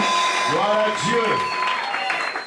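A church congregation applauds and cheers to acclaim the Lord, a brief burst of clapping and voices beneath a speaking voice.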